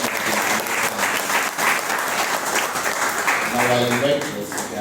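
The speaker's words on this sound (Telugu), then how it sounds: "సో మరి మనం చప్పట్లతో ఆయన్ని ఆహ్వానిద్దాం." An audience at a Tuesday prayer gathering claps steadily to welcome a police officer as speaker, giving dense, continuous applause throughout with a few voices rising over it near the end.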